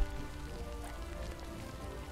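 Steady rain falls in the video game Quench, a dense, even patter of drops on surfaces that holds at a constant moderate level for the whole stretch, with no voices over it.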